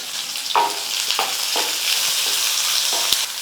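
Chopped onion frying in a hot pan with curry leaves, a steady sizzle broken by several soft stirring scrapes, close and moderately loud.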